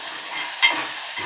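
Chicken curry with garam masala sizzles in a pan, a brief, close, steady frying hiss with a small clink partway through.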